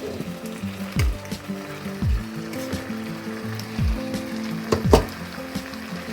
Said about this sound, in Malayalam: ഈ പാസ്ത കുറച്ച് ചേർക്കാൻ പോവാണ് ഈ സോസിനകത്തേക്ക്